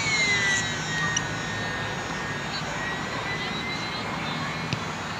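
Small SBACH 342 model airplane flying on a calm, windless day, its electric motor whining steadily overhead at a middle distance with a faint shifting pitch as it passes.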